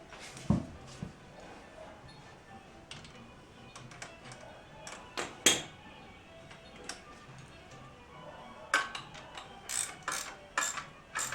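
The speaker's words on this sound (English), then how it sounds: "put my wrench on here and just kind of snug that up" Ratchet wrench snugging a bolt on a compact engine guard of a Royal Enfield Continental GT 650, a string of close, sharp clicking bursts in short irregular runs over a quiet workshop background.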